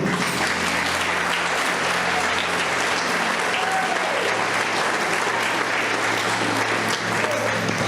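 A church congregation applauds steadily through the whole stretch at a 60th anniversary service, a dense, even wash of many hands clapping at once.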